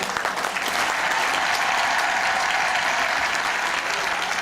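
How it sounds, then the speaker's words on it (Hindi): Loud, sustained applause from a large crowd at an Independence Day event, a dense continuous roar of clapping at constant level from start to finish. "जोरदार तालियां।"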